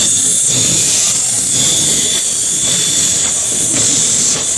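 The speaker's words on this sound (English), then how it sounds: "This is the engine to our train." A train locomotive's engine runs with a loud, continuous hiss and rumble close by, steady for several seconds with no voices.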